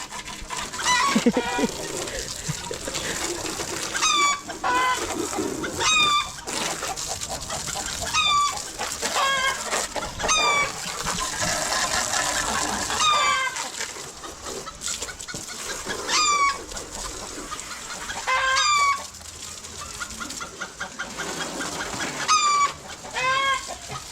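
Chickens cackle and squawk repeatedly over a dense, busy farmyard din, with loud rising calls recurring every few seconds throughout.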